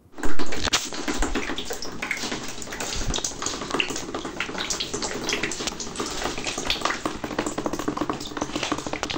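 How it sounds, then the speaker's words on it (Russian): Water pours steadily from a ceiling where burst attic pipes have split in an apartment building on Revolution Avenue, a constant splashing rush that continues without pause. "В этом доме на проспекте Революции вода полилась прямо с потолка."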